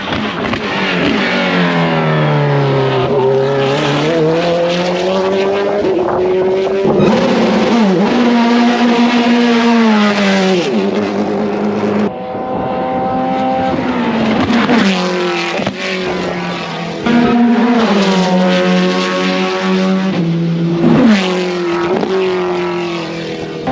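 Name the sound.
car engine revving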